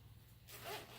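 A lace zipper on a pencil case is pulled open close by in one short, bright rasp, running alone over low steady hum.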